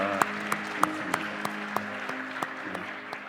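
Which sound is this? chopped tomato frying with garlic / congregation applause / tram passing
congregation applause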